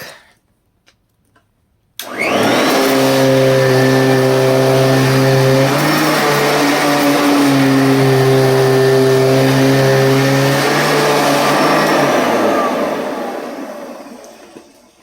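A vacuum cleaner starts up and runs steadily across a low pile area rug, a loud continuous motor whine with a tonal hum that holds level for about ten seconds before winding down.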